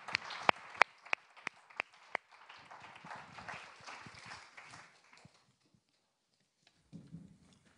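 Audience applause at a French talk event, a few sharp isolated claps at first, then a short burst of scattered clapping from a modest crowd that fades out, followed by quiet and a faint murmur near the end.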